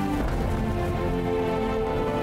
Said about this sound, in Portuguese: Que chuva bonita